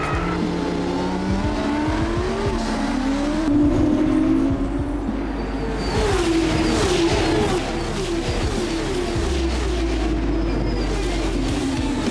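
A Formula 1 race car in a video game roars at high revs, engine pitch sweeping up and down through gear changes as it loses control, with other car engine noise layered underneath.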